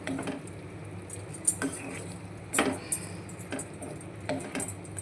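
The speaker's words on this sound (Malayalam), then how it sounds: "ഫ്രൈ ഒന്നും കൂടി ഇതിലോട്ട് മസാല കൊണ്ട് പിടിക്കുമ്പോൾ" Quail fry being stirred with masala in a pan, with repeated scraping and clinking of a utensil against metal. The clatters come in irregular bursts over a steady background hum.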